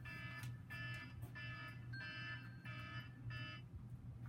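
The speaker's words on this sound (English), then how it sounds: "I got an alarm going off." A household alarm beeps in a steady pulsing pattern of six bursts about half a second apart, at moderate level over a low electrical hum, late at night.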